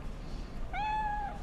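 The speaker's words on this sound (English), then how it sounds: "A big kitty. I can pet the cat." A single drawn-out cat meow from the video game Cyberpunk 2077 sounds clearly over a steady low background hum, rising at its start and then holding its pitch.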